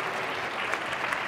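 Audience applause at a university regional science awards ceremony, a short, even burst of clapping at moderate distance with no talk over it.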